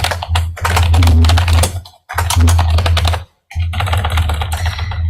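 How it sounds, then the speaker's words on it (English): Fingers typing a file name on a computer keyboard in three quick bursts of close, rapid key clicks, separated by brief pauses, with no talking. "I'm going to type in my name."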